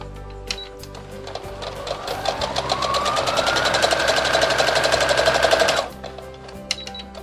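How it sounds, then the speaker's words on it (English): A sewing machine stitches through coffee cosy wadding in one steady burst of rapid mechanical rattling that speeds up, runs loud and close for a few seconds, then stops abruptly. "I'm going to sew just inside the wadding"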